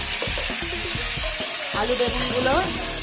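Potato, eggplant and a green chili hit hot oil seasoned with nigella seeds, giving a loud, steady sizzle with stirring clatter and a few scraping knocks, while a voice talks over the frying.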